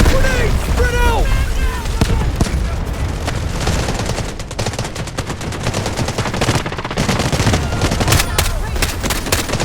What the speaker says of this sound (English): Grenade! Spread out!